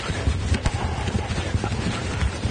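A young horse's hooves clip-clop on the footing of a dressage arena: soft, rhythmic thuds set in a dense, noisy background, with no clear talking.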